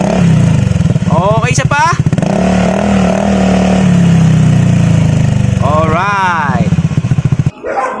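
Honda Beat FI scooter fitted with a hexagonal Akrapovic muffler with silencer idling, then revved twice in quick rising bursts, close and loud, with someone talking over the engine.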